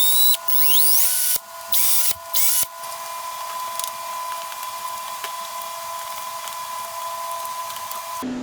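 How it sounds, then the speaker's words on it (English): Metal parts for a car frame mount are drilled with a power drill in several short whirring bursts. A steady tonal hum and workshop clatter continue between and after the bursts. "So let's drill out some stuff and then do some measuring."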